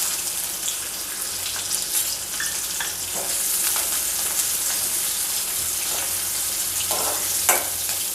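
Finely chopped onions frying in hot oil in a pan, a loud, continuous close-up sizzle with occasional stirring scrapes and clinks.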